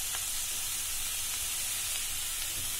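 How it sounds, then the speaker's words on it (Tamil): Grated coconut frying in a pan with cardamom and sugar, a steady soft sizzle with faint stirring, continuous and close, no voices. "பாருங்க, இப்போ நல்லா தேங்காய் வறுபட்டுருச்சு."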